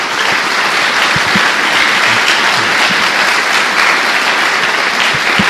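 A church congregation claps for the Lord in a loud, sustained, dense round of applause. The full crowd keeps it going evenly for several seconds, with faint low thumps underneath.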